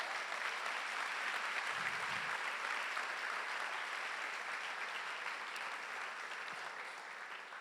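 Congregation at a church service in Braga applauding, a dense, steady wash of clapping hands from many people that holds for the whole stretch and fades slightly toward the end.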